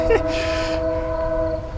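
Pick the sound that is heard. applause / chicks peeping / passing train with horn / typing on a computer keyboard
passing train with horn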